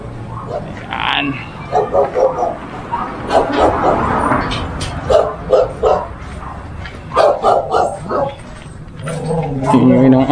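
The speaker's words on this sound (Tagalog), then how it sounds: "Tingin ng aso." A dog on a visit to Cabiao, Nueva Ecija, barks in repeated close, loud bursts, with whimpers and yips between them and voices chatting in the background.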